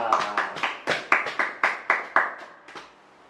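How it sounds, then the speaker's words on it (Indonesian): A handful of hands clap together in quick bursts, a ragged rhythm of about a dozen claps that trails off near the end. "Tepuk tangan untuk kita semua."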